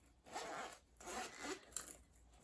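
Zipper on a small fabric zip wallet being sewn, pulled open and shut in three quick, close strokes with brief pauses between, each a bright ratcheting rasp with no talking.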